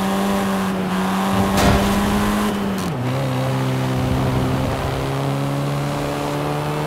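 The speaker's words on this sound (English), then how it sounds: "This version is the Volkswagen Golf R" A Volkswagen Golf R engine in Forza Horizon 5 holds a steady, loud drone near the listener, dipping in pitch once as the revs drop and then settling into an even hum.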